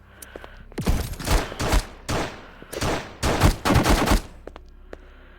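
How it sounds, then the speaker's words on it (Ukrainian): Rapid bursts of video game gunfire crackle in several volleys, loud and close, with short pauses between them and no talking. "Ну що ти стріляєш по мені?"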